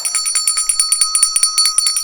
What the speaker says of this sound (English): And I like the sound of bells.